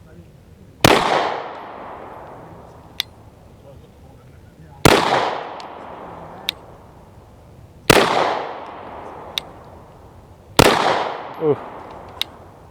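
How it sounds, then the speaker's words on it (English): Canik TP9SF pistol fired at a range from 7 yards: four loud, sharp reports spaced a few seconds apart, each with a ringing decay, plus faint distant shots from other lanes and a brief exclaimed voice. "We are gonna be shooting from 7 yards real quick, so here we go."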